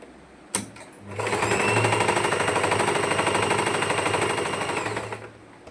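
Electric sewing machine stitching a pleated frock, one continuous loud rapid whirring run of about four seconds, starting and stopping abruptly after a short click, with no talk.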